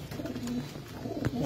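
Pigeons at a bird seller's stall in Cabuyao give low, soft cooing, a few gentle coos rising over a steady murmur of background noise.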